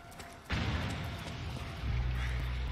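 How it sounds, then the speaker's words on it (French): A helicopter being shot down in Metal Gear Solid 4 ends in a sudden loud explosion, followed by a sustained rumbling roar with a deeper low-end surge near the end, and no speech over it. "Hélicoptère abattu."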